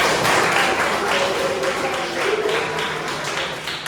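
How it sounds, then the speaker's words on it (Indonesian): Students in a classroom applaud during a religious education lesson, a steady wash of many hands clapping together at moderate loudness, tapering slightly toward the end. "Tepuk tangan untuk diri kalian masing-masing."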